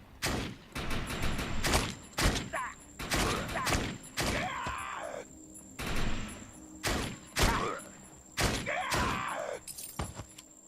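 Shotgun blasts in the video game Defiance, a series of loud, sharp shots in irregular clusters with brief gaps between them, some followed by ringing debris or shattering sounds, and no talk over them.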